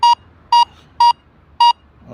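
A Quest-licensed metal detector beeps four times at an even pace, each tone loud, sharp and electronic, as its disc passes in front of a phone.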